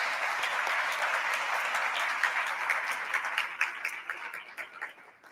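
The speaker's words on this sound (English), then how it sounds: "Let's have another hand of applause for them." A forum audience claps steadily for the panel speakers. The applause is dense and sustained, then thins into scattered claps and tapers off toward the end.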